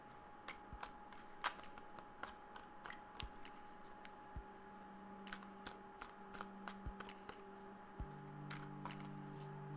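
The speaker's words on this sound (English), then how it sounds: "I'll shuffle them up." Tarot cards being shuffled by hand in a quiet room, a series of soft, crisp riffling snaps and taps in irregular bursts, close and faint with no talking.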